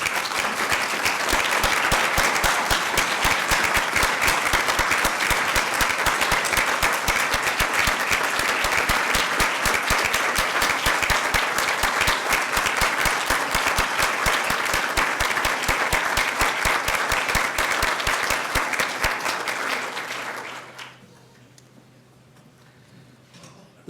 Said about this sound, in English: Graduates, please join me in saying thank you to your supporters with a round of applause.